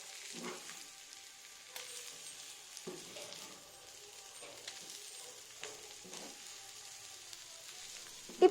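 Chicken frying on a tawa griddle pan with coriander: a quiet, even hiss of sizzling, with a few brief scrapes of stirring scattered across it.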